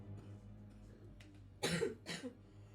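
A sick person with pneumonia lets out two quick, rough coughs close to the microphone, following some quiet background hum and a faint earlier throat noise.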